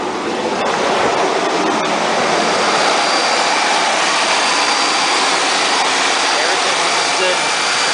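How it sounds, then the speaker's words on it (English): A Mercedes ML320 engine, just repaired after an alternator fault, runs smoothly. It makes a loud, close, continuous broadband roar with no breaks or surges throughout. "the engine's running smooth"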